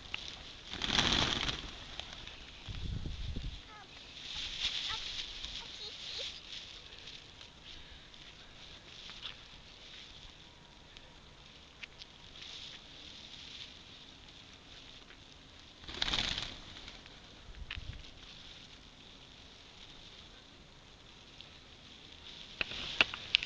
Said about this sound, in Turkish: Kuşlar bak civcikler mama yiyorlar